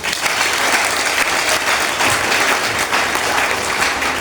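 A church congregation at a Sunday service applauding, a dense, loud, steady wash of clapping from many hands lasting the whole stretch.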